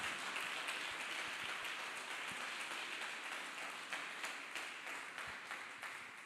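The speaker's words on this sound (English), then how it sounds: "Clap hands for Jesus Christ, people of God." Worshippers in a church service applaud for Jesus Christ, a thick, continuous patter of many clapping hands that slowly fades toward the end, with a few low thumps underneath.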